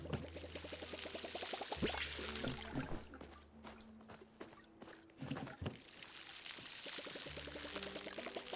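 Water from a watering can pours onto crops in the farming game Palia, a sloshing splash in the middle stretch set between looping game music and soft chimes.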